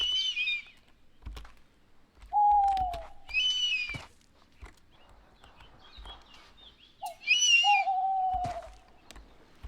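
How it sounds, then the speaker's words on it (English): Bird calls come in sparse bursts: short high shrieks alternate with lower sliding whistled notes over near silence, with scattered soft clicks and taps between them. "Let's go now to the sounds of predatory birds."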